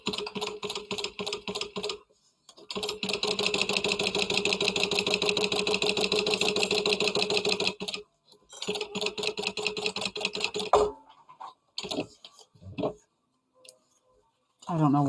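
Domestic sewing machine stitching fabric, a steady rapid mechanical chatter running in long bursts with short pauses between, then stopping near the end as a voice speaks briefly.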